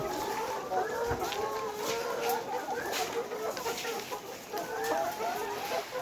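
Layer chickens in a poultry shed clucking continuously, a crowded chorus of overlapping murmuring clucks and short calls close by, with someone talking over them.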